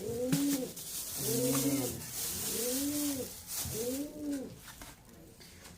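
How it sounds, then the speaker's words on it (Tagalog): Domestic pigeon cooing in a backyard loft, several rounded throaty coo phrases repeated in a steady rhythm close by, with a brief spoken word near the start. "Kunting update lang sa aking kalapati."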